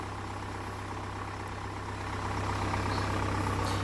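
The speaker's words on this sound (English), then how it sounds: "the engine's only been running just for" A new Land Rover Defender engine idling on a sub-zero morning just after a remote start, a steady low hum that swells slightly toward the end, with no talking.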